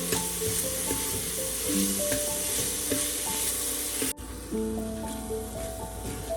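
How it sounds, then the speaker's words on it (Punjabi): Tomato tadka for dal khichdi sizzling in a pan, a loud steady frying hiss near the microphone with scraping stirs of a ladle, briefly cut off midway before resuming. "ਹੁਣ ਤੜਕਾ ਸਾਡਾ ਭੁੱਜ ਗਿਆ ਜੀ"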